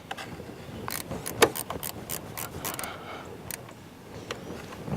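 A wrench works on the negative battery cable terminal of a 2001 Ford F150, giving a series of close metallic ratcheting clicks and clanks in uneven bursts, no talking.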